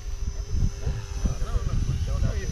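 Radio-controlled helicopter flying a loop and then inverted, its rotor producing a fluttering, throbbing whir with pitch sweeps, near and moderately loud, with someone talking over it.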